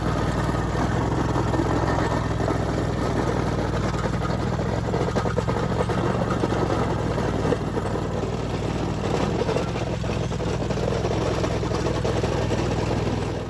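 A pathway grinder roughs up high spots on a paved path, producing a loud, steady, continuous motor drone with a gritty grinding roar that holds level throughout, with no talking.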